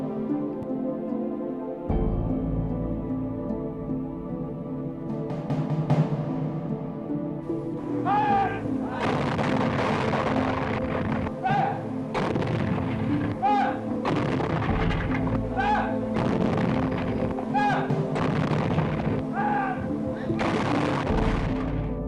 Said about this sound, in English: only 92 anti-aircraft guns defended the capital